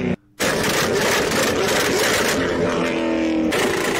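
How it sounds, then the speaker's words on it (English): Chevrolet C7 Corvette exhaust played back, a loud continuous rasping engine roar with a brief dropout near the start, then held revs and a tonal rise before settling. "I'm pretty sure it's an exhaust video, so I love the sound of C7 Corvettes."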